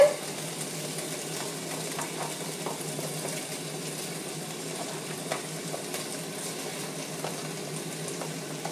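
Chili added to cooked chicken frying for chicken fajitas, a continuous soft sizzle and crackle with small scattered pops, steady and close throughout.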